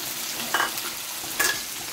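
Chopped tomato and onion frying in a pan for an egg curry, a steady close sizzle with two brief stirring scrapes, and no talk.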